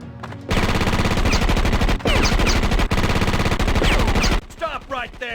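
Rapid bursts of automatic gunfire ring out while shooting targets along a boot camp training track in the Starship Troopers video game, loud and dense with brief pauses between volleys and a final scattered tail of shots.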